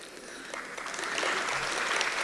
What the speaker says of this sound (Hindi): जिन 4 लोगों ने ताली बजाई